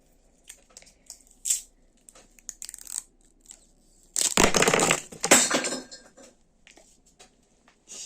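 Plastic and paper packaging of a newly bought cosmetics item is torn open and crinkled close by, with scattered small clicks and rustles before a loud sustained tearing burst of about two seconds.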